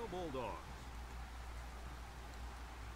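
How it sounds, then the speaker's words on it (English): Pouring rain at a night game in the video game NCAA Football 07 makes a steady, even hiss throughout, with a brief voice at the start. "At night game, pouring rain."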